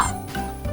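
A small dog gives a quick pair of short, high yips and barks, close and fairly loud, lasting under a second with no talking.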